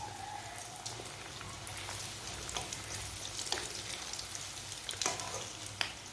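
Bread and potato tikki fry in very hot oil, giving a steady close sizzle with scattered sharp pops and crackles throughout, and no talking.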